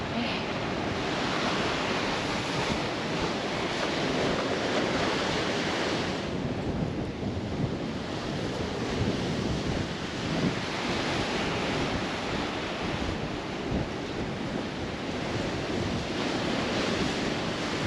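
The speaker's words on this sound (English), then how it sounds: "Another beach walk." Steady roar of surf and gusting wind on a beach during an Australian coastal hike, continuous and loud with heavy wind buffeting on the microphone and no talk.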